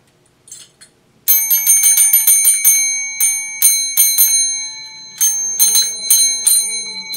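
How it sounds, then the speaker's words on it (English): A small bell rings repeatedly in quick bright dings, a few soft taps first, then bursts of rapid ringing close by with no talking. "hit that bell."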